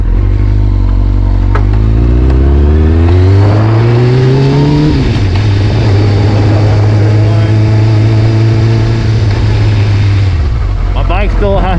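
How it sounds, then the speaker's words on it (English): A carbureted motorcycle engine idles loud and close after a cold start, its pitch rising as it revs up, then dropping back to a steady idle until it cuts out near the end. "My bike still has to warm up."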